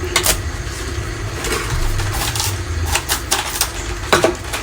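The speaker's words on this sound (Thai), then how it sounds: "หั่นผัก" Irregular sharp knife taps chopping napa cabbage on a cutting board, close by, with a steady low hum underneath.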